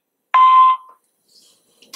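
A single short electronic beep from a phone call going to voicemail, clean and loud, followed by near silence with faint trailing noises.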